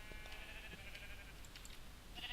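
Minecraft sheep bleating in an open plain, a few faint, brief bleats over a quiet background.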